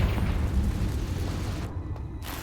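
A Confringo fire-blast spell in Hogwarts Legacy goes off with a loud rumbling burst that rolls on, then briefly cuts out before the roar returns.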